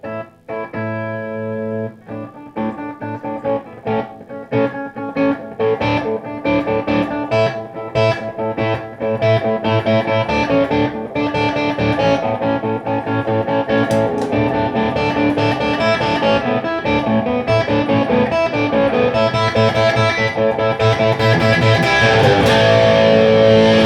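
Electric guitar played through the crunch channel of a Peavey Ultra Plus amp, loud and distorted, with chords and riffs that start sparse and build into a dense, continuous wall of gain.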